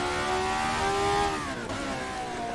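A 1980s Formula 1 car drives the old Monaco street circuit, its high-revving engine howling loudly and close, pitch climbing through gears then dipping briefly before rising again.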